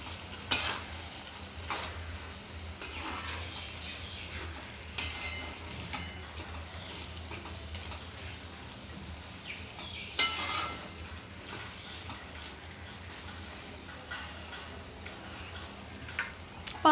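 Chicken kheema is stir-fried in a pan with a low, continuous sizzle. Occasional sharp scrapes and taps of the spatula against the pan come at irregular intervals, with no voices.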